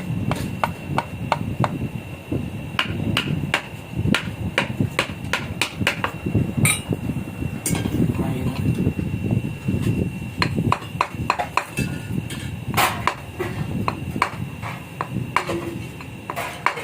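Hammer blows ring out against a two-stroke Kawasaki Ninja exhaust pipe being straightened, a long run of sharp metallic strikes in an uneven rhythm, close and loud, with no talking.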